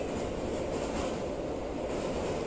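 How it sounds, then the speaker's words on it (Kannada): Train running on the Bagalkot–Vijayapura line toward Almatti station, a steady loud broadband rumble and rush of the moving train heard from on board, with no pauses. "ಈಗ ನೆಕ್ಸ್ಟ್ ಆಲ್ಮಟ್ಟಿ ಸ್ಟೇಷನ್ಗೆ ಎಂಟ್ರ್ ಆಗತ್ತೆ ಟ್ರೈನ್"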